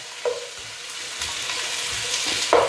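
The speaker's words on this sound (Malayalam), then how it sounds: "സവാള ചേർത്ത് വഴറ്റിയെടുക്കാം." Three chopped onions sauté in hot oil for a special biryani, sizzling and frying steadily while a spoon stirs them, with a few louder scraping bursts near the start and end.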